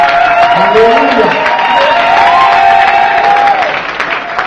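A large crowd cheers and applauds loudly at a gospel evangelism gathering, a sustained roar of clapping and shouting that eases slightly toward the end, with a voice rising above it.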